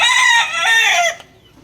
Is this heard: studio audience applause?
no